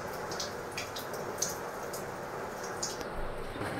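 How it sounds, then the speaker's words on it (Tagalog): Soft, steady rain hisses in the background, with occasional drops tapping nearby against a quiet scene. "Last ng ulan. Ulan din."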